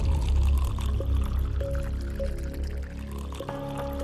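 Drinking water poured into a glass indoors, a steady close trickle as it fills, over a low background hum.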